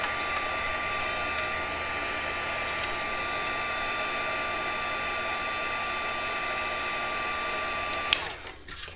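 A hair dryer drying a rolled craft petal in a pie plate, a steady, close, high-pitched blowing hum that runs without a break and then clicks off near the end.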